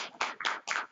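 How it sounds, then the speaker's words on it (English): Audience applause after a research presentation, heard as four loud, distinct bursts of clapping in about a second, close and with no speech. "let's clap for them"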